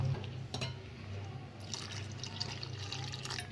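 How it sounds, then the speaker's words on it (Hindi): Water poured into a semolina and flour halwa mixture in a pan makes a steady, close liquid splash and trickle, with soft bubbling and clinks running throughout. "ये और पानी मैंने इसमें ऐड कर दिया है।"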